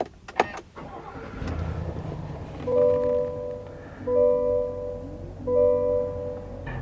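A 2021 GMC Yukon XL AT4 started with a push button: a sharp click and a short cranking rumble settling into a low idle, followed by repeated electronic dashboard chimes heard up close inside the cabin.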